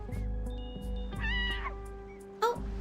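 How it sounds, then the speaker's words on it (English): A cat in the video game Reverse: 1999 gives several clear meows, some rising and wavering, close and fairly loud over a low steady hum, with a sharp brief sound near the end. "it sounds like a cat"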